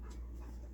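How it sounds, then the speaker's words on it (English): An indoor dog pants steadily at close range, a soft rapid breathy rhythm with a low room hum underneath and no talking. "I've got 4 dogs in here now."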